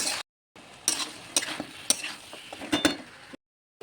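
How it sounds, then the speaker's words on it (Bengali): Cabbage cooking with fish head in a pan, stirred so that utensils scrape and clack in irregular bursts over a steady sizzle, with brief silent gaps at the start and end. "দেখো আমি রান্না করছি মাছের মাথা দিয়ে বাঁধাকপি"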